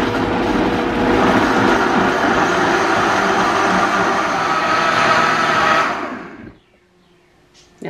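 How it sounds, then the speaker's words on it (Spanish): A kitchen blender grinds chipotle sauce for pork ribs, a loud steady whirring motor running for about six seconds before it cuts off and winds down, followed by a faint clunk. "Aquí lo pongo a moler, que quede bien molido."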